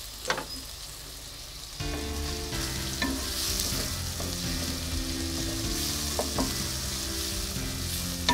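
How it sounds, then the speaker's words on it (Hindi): Onion masala with green chillies fries in a pan with an egg dish underway, and the sizzle jumps louder partway through and then holds, broken by occasional clinks of stirring. "ये सब्ज़ मिर्चें डाल देंगे इसके अंदर, क्योंकि इसका मसाला हमने ज़्यादा ब्राउन नहीं करना, बस लाइट सा रखना है।"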